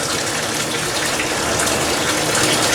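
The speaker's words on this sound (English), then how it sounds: "2 5-gallon pails, so I'll get this other one filling." Water gushing loudly and steadily into a 5-gallon pail in a garden, a close, constant rushing fill with no pauses.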